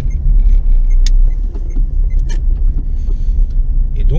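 A 2011 Dacia Sandero 1.5 dCi diesel car rolls slowly around a parking lot, its low steady engine rumble running throughout with a few faint clicks and rattles from inside the cabin.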